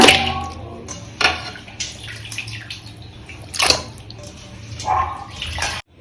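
Tap water splashes and sloshes in uneven bursts while mutton is washed for Ambur mutton biryani, with close clattering and a faint background hum.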